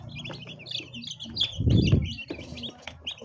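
Newly hatched chicks from an incubator peep in rapid, high, repeated chirps close by, mixed with soft rustling and handling noise as they are gathered into a basket.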